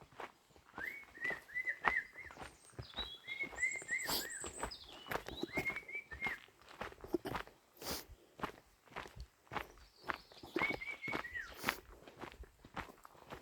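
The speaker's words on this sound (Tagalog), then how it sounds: "Marinig mo yung ibon." Birds sing repeated bright whistled phrases over crunching footsteps on a mountain hiking path in Fiss, Austria, the calls clear and fairly close in an open outdoor setting.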